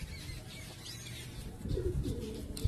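A black-and-white Ablush pigeon coos softly, a few low, muffled calls rising in the second half over quiet background noise.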